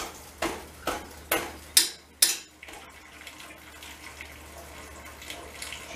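Mash draining from the tap of a still, opening with five sharp knocks or taps, then a steady faint trickle and splash of liquid that continues alone.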